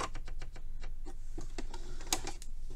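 A sewing machine runs a straight stitch while shortening the sleeves on a woman's top, giving a quick rhythmic ticking of the needle at close range.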